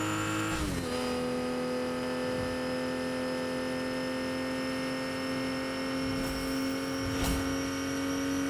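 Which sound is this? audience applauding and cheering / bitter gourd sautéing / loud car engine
loud car engine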